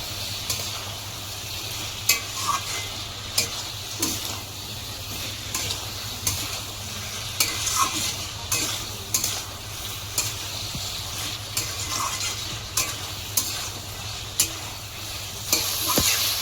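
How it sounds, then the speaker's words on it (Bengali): Pointed gourd and potatoes stir-fried with spices in a pan: a soft continuous sizzle broken by regular scraping clicks of a spatula, close and moderately quiet. "পটল দিয়ে একটু ভালো করে কষাবো।"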